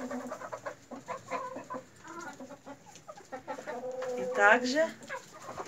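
Mini Meat fawn hens clucking in a winter coop, several birds close by with repeated clucks and a louder squawk near the end, while a person speaks briefly.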